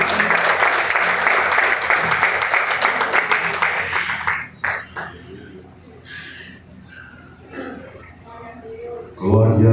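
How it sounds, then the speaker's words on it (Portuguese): A church congregation applauds during a Portuguese-language service, dense loud clapping for about four seconds that cuts off, followed by quieter room sounds and a voice beginning to speak. "Uma linda salva de palmas para Jesus."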